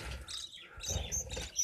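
Budgie parents feeding their grown chicks, with faint, thin chirps and tweets coming in short scattered bursts close by.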